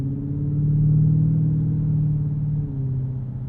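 A 2024 Ford F-150 Raptor R with a 720hp V8 accelerates with a loud, steady low rumble that rises and holds as the engine pulls, close and without voices.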